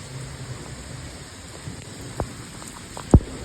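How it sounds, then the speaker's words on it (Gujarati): Heavy unseasonal rain in Rajkot falls in a steady, even hiss with occasional sharper drops and taps close by. "ફૂલ વરસાદ આવી ગયો"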